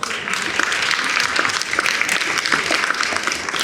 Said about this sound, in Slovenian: Tako da en velik aplavz za oskrbovalnico.